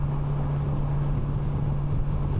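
Riding at speed on a 2025 Kawasaki Versys 1100 SE, a steady low engine buzz hums beneath a broad rush of wind noise, constant and unchanging throughout.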